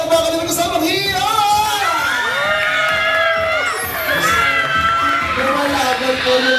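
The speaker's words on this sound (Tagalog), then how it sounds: "Magpapalakasan tayo ng palakpakan na sigawan." Loud crowd cheering, whooping and shouting at an 18th birthday debut celebration, with children's shouts mixed in, sustained throughout without a break.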